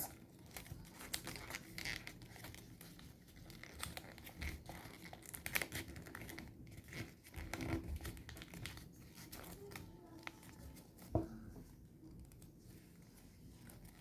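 Paper being creased and folded into a shuriken, with soft crinkling and rustling handled close by in a quiet room, a sharper crackle near the end.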